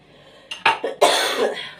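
A person coughs several times in a quiet kitchen, a couple of short harsh bursts followed by a longer, louder cough, close to the microphone with no talking.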